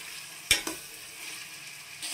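Amaranth stems sizzling in hot oil in a pan, a soft steady fry broken by two sharp clinks of a utensil against the pan near the start, no voices.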